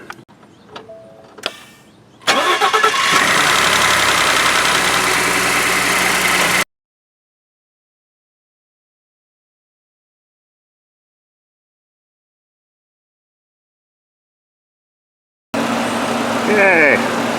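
A Ford EcoBoost engine idles with a steady mid-pitched hum while intake valve cleaner is sprayed in. The running sound breaks off abruptly into silence and later resumes, with a person talking near the start.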